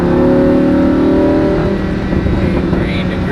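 Race car on a track accelerating uphill as the throttle is squeezed, a loud continuous engine drone that rises and roughens toward the end, up close from the cabin.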